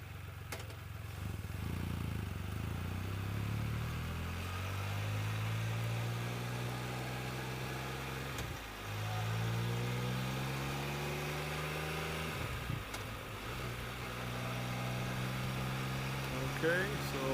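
Engine drone of a 2015 Can-Am Spyder F3S three-wheel motorcycle while riding, a steady low rumble with gear shifts and changing revs throughout, close and continuous with wind noise.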